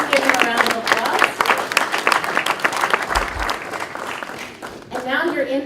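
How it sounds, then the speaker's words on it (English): A crowd claps at a Houston Africa Day 2018 celebration after the mayor is introduced, loud and close with lively, uneven clapping and some cheering, which dies down before a voice starts speaking near the end. "Please give him a round of applause."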